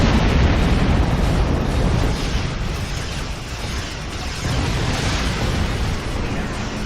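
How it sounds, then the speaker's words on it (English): A player's starship explodes in the video game Star Trek Online, a sustained, roaring blast that rumbles on loudly and fills the whole stretch with little letup. "That's not gonna happen because I exploded."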